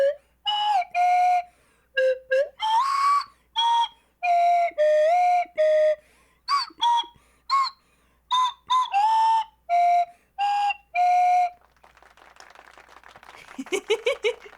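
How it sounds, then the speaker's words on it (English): A slide whistle plays a run of short, separate whistled notes with rising and falling glides, loud and close. A softer, rustling patch of noise follows near the end. "See, I'm pretty good with the slide whistle."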